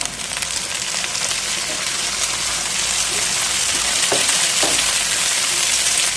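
Broad bean seeds fry in hot oil with onions and green chillies for a drumstick, egg and tomato curry, producing a loud, steady, close sizzle with a couple of faint stirring clicks.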